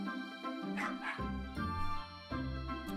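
Dogs bark in an indie game trailer, with several loud, close barks and yips coming in short bursts over other steady, tonal sound.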